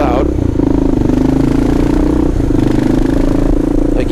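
A tall, loud motorcycle revs while riding through city traffic, a close, rough engine drone with rapid pulsing that dips and climbs again, with a brief rattling clatter at the start.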